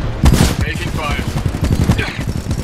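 Bursts of rapid gunfire and shots crackle in the Titanfall 2 shooter game, dense and loud, with a brief spoken line in the game mixed in among the fire.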